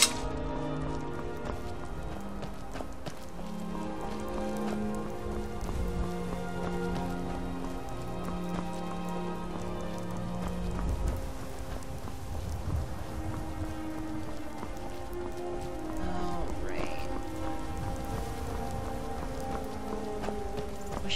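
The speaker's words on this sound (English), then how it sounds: "Oh, rain. Wish it had freaking rain here." Steady rain in the game Skyrim, a soft continuous patter under faint ambient music, with no voices.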